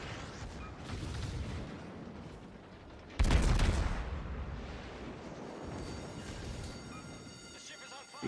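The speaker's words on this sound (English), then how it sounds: "he is close enough for the secondaries to open up" Warship secondary guns fire in close-range combat in World of Warships, a dense rumble of booming volleys with a heavy blast near the middle, while someone talks over it.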